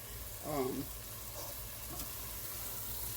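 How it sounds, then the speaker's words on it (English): Taco-seasoned ground meat for chili is stirred in a pan, giving a soft sizzle and scraping beneath a brief, faint murmur of voice, with a low steady hum underneath. "We're just going to keep mixing and stirring."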